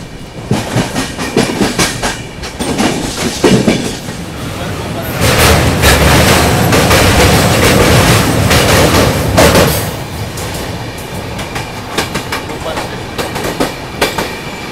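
Rajdhani Express train rolling along the tracks as another line merges in, with a steady loud rumble and rattling wheel clatter that swells in the middle, heard from on board.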